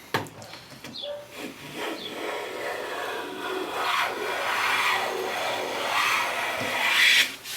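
A hand plane shaves cherry wood in long, continuous rasping strokes, a close, steady scraping swish that rises and falls across the pass with no talking.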